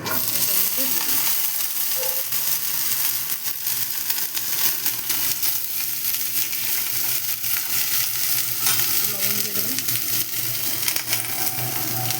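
Panch phoron spices fry in a pan, a loud, dense, continuous sizzle and crackle heard up close with occasional scraping of stirring and no voices.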